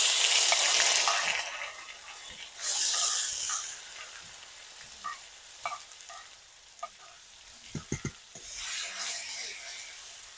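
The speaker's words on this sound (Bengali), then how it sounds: "মশলাটা হালকা করে একটু ভেজে নেব।" Ground spice paste fries in a pan for paneer masala gravy, starting with bright bursts of sizzling hiss, then quieter stretches broken by utensil knocks and scrapes, and the sizzle swells again at the end.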